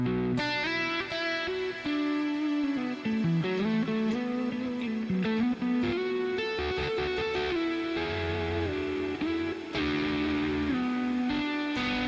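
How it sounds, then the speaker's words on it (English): Electric guitar played with reverb switched on, ringing chords and single notes that blend into a washy sustain, steady and fairly loud throughout with brief breaks between phrases. "turn on some cool reverb"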